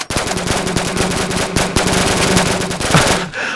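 Guns firing in modded Minecraft, a loud, rapid automatic burst of regular shots that continues almost without pause for several seconds before cutting off.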